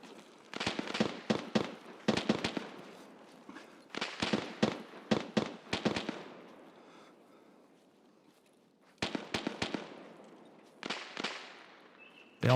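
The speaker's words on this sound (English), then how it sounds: "They all done shooting at each other?" Clusters of gunshots crack out as players shoot each other in Escape from Tarkov, sharp reports in rapid groups separated by quiet gaps, moderately distant and echoing.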